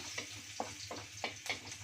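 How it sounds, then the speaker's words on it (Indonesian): Shallots and garlic frying in hot oil, a steady close sizzle with a few crisp pops and stirring scrapes over almost two seconds. "Kita goreng dulu bawang merah, bawang putih"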